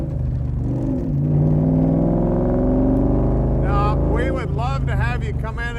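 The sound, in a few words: Ford Coyote V8 engine revving in Backdraft Shelby Cobra replica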